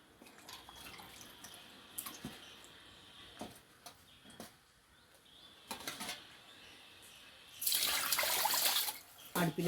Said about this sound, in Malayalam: അതിനുള്ള കഷ്ണങ്ങളൊക്കെ ഞാൻ ഒരു പ്രാവശ്യം കഴുകി കഴിഞ്ഞ് ഇനി രണ്ടാം വട്ടം കഴുകുകയാണ്